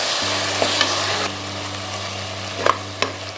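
Ground masala sautéing in a pressure cooker for mutton biryani gives a steady, close oil sizzle with a low hum underneath and a few sharp scrapes and taps from stirring, with no voices.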